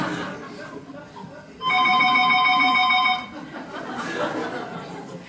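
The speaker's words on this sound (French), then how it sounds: "ça c'est la sonnerie de quelqu'un qui se trompe" Someone's phone ringtone goes off during a theatre play: a steady electronic ringing lasting about a second and a half, rising clearly above a low murmur of audience chatter that continues before and after.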